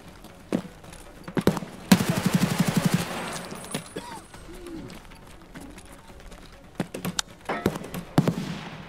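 Gunfire in Escape from Tarkov: sharp single shots scattered through the clip, plus a rapid automatic burst of about a dozen rounds near the start, with quieter background noise between shots.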